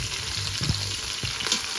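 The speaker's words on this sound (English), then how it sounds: "you can brown it in a heavy skillet" Oxtail browning in a couple of tablespoons of oil in a heavy skillet, a steady close sizzle with a few soft stirring clanks.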